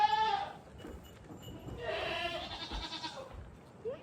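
A goat on a farm lets out loud wavering bleats, one short call at the start and a longer drawn-out one in the middle, close by with quiet farmyard background between the calls.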